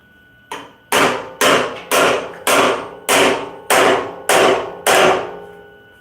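Steady hammer blows on heavily welded metal being beaten into shape, eight sharp ringing strikes at an even pace after one lighter tap, loud and close with no talk.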